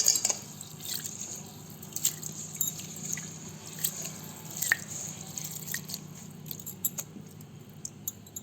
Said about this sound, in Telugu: బాగా కడిగేసి నానబెట్టాలి